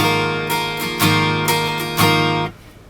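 Four strummed guitar chords ring out in an even, steady rhythm, each stroke sounding close and clear and sustaining into the next, before the last one fades to quiet.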